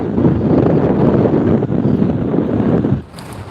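Cold wind gusting hard across the microphone at an outdoor otter viewing spot, a loud, continuous rumbling buffet that drops away abruptly near the end.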